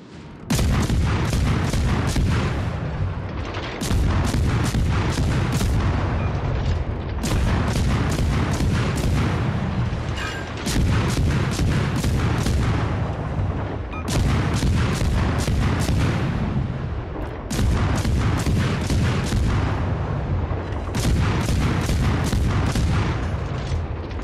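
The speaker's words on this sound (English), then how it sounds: "Enemy destroyer sighted. Stations. Concentrate fire on the target." Destroyer guns fire over and over in a naval video game set aboard USS Black: loud, close salvos of sharp cracks come in regular bursts every few seconds, each with a rumbling tail, and no talking.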